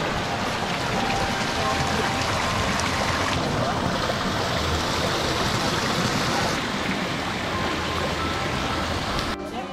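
Holy water pours and splashes in a Balinese temple bath in Ubud, a continuous loud rushing and spattering that stays close and unbroken throughout.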